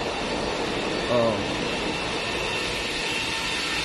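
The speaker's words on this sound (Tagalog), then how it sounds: "Water jet po yan." A water jet machine runs while cutting stone at a Saudi worksite, giving a steady broadband hiss and roar throughout, with a brief spoken exclamation over it.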